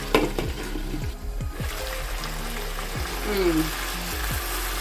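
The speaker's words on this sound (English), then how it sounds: "This is sizzling so beautifully." Fish sizzles steadily in a hot pan for a fish stew, a continuous crackling hiss with a few low knocks and scrapes of a utensil.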